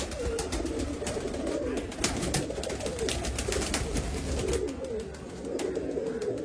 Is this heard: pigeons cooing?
yes